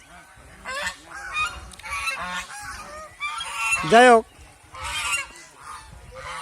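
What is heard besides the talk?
geese honking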